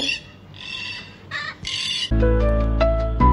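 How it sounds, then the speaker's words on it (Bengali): Harsh, loud macaw squawks at a mini zoo, a few raspy calls ringing out in open air, with a louder burst near the end. "ওই দেখো ম্যাকাও"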